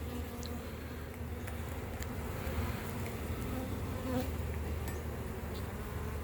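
A dense, steady hum of many bees buzzing together, continuous and close, with occasional louder individual buzzes passing by.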